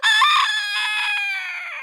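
A pet rooster crows close and loud, one long drawn-out cock-a-doodle-doo with a strong, bright onset that holds steady and then slowly trails off.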